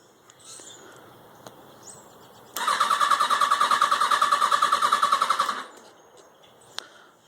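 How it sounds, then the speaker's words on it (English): A motorcycle engine cranks and fails to start after a night on a battery charger. The starter whirs in a rapid even rhythm for about three seconds and then stops, loud and close, with quiet background before and after. "this is me trying to start the bike"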